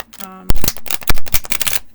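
Thick, long, stiff Archangel Power tarot cards are shuffled up close in sharp, crisp riffles and flicks that follow a brief spoken phrase at the start.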